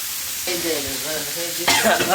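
Hilsa fish sizzles and crackles loudly in a frying pan, with a scraping stir partway through and a sharp burst of sizzle near the end; a voice is faintly audible.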